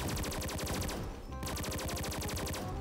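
Rapid automatic gunfire in the video game XSHOT sounds as fast, even bursts of loud, close shots, with one short pause before the firing resumes.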